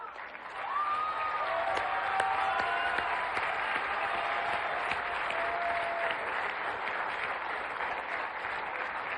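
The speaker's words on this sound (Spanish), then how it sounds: "Párate, Diego, vamos a darte un aplauso." Steady, dense applause from a large crowd at an outdoor inauguration of a national park and museum in Mexico, sustained and even throughout, with faint voices mixed in.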